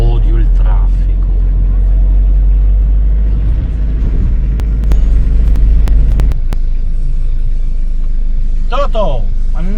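City road traffic rumbles outside a camper, a steady low drone of passing cars that fades partway through, with people talking over it.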